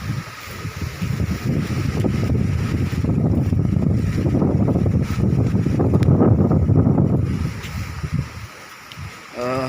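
Strong wind roars in steady, loud broadband gusts across a wet road during a rainy-season fishing trip, buffeting the microphone almost continuously before easing in the final second.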